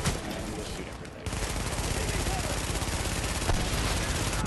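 Sustained automatic gunfire in the video game The Division, a dense rapid rattle that starts abruptly after a brief quieter lead-in and continues loud to the end.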